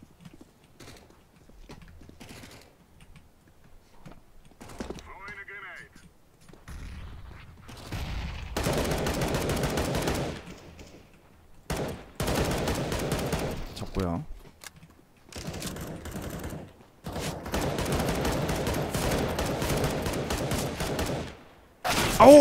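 AK rifle gunfire in CS:GO competitive on Dust2, sounding as dense bursts of shots in several separate volleys alongside other game noises, with voices talking over parts of it.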